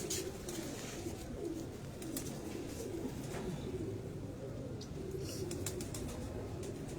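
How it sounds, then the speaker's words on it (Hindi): Pigeons kept on a rooftop loft coo in low, rolling, repeated calls, close and steady throughout, with faint chirps and no clear speech. "ये जी कबूतर जो 7-16 पे बैठी थी, नीलम मादा, ये वो कबूतरी है।"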